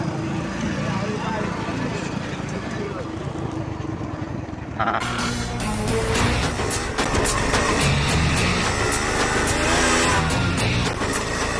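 A car on the road driving and overtaking, its engine roaring loudly and steadily with a surge as it passes, under and between a voice talking.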